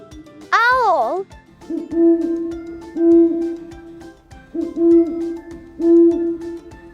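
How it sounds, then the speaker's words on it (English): An owl hooting in a series of low, steady hoots spaced about a second apart, following a brief rising and falling whistle-like call at the start. "Owl."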